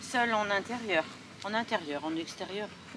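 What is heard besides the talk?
No distinct noise like a dog, phone or traffic.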